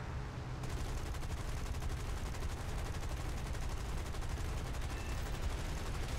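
Rapid, continuous machine gun fire from a P-36G Hawk fighter plane in the aerial combat game War Thunder, a dense rattling burst lasting several seconds over engine noise.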